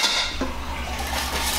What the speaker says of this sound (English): We need our spatula. Just scrape this bowl down.